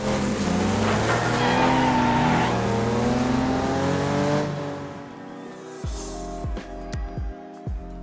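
Car engine in The Crew 2 racing game roars loud and close for several seconds, pitch sweeping as it revs through the gears, then drops off into a quieter idle broken by short blips of the throttle.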